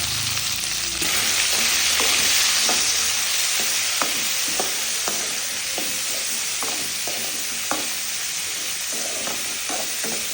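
Okra frying in sesame oil in a pan: a loud, continuous crackling sizzle with sharp pops and spatula clicks scattered through, heard up close and without talk.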